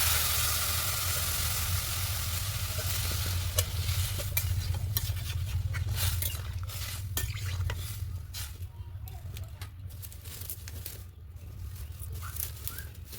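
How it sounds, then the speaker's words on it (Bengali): Steady sizzle and bubbling of sliced potatoes, flat beans and vegetables in a pan after water is poured in for a curry, with stirring clinks over a constant low cooking hum, moderately loud and close. "এবার জল দিয়ে দেবো।"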